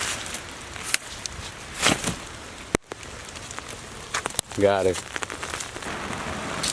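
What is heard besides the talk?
rain falling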